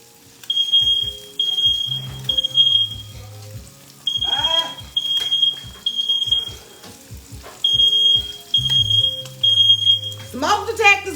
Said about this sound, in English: Smoke detectors work, honeys.